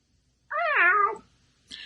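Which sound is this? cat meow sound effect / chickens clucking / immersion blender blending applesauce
cat meow sound effect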